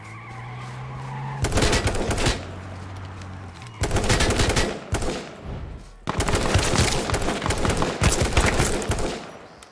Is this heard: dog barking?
no